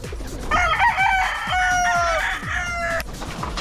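Gamefowl roosters crow loudly and close by, with one long crow following another, while softer clucks from the flock continue underneath.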